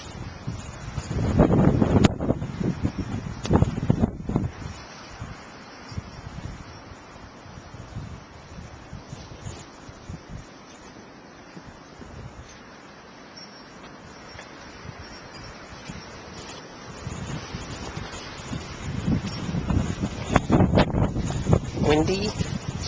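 Gusty wind in a New Jersey snowstorm on a Trenton street, buffeting the microphone in loud bursts at the start and end and easing to a softer rush in between, with some talk.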